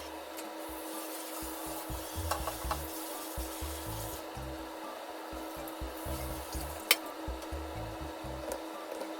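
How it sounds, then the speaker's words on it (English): A spoon scrapes and stirs chin chin snack dough frying in a pan, making soft, repeated rubbing strokes in an irregular rhythm over a faint, steady frying hiss. "just stir it until it is golden brown"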